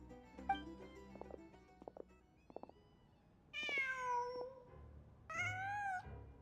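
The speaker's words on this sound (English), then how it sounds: "Just a cat." Two drawn-out cat meows inside the Genshin Impact video game, the second following shortly after the first, loud and close, with soft background rustle and a few clicks just before them.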